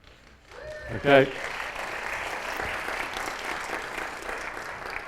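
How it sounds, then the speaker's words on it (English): Audience applause at a conference opening in Seattle, swelling from quiet into sustained, dense clapping from a crowd, steady and moderately loud after a brief spoken word at the start. "that round of applause is for Adele"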